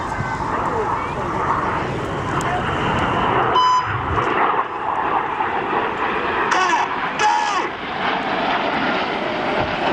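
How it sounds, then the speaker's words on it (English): A few quick electronic beeps from a pilot's cockpit tone button ring out over the steady roar of aircraft engines at an airshow, with a voice talking through it. "The beeps you hear are actually Red 6 pressing a tone button in his cockpit"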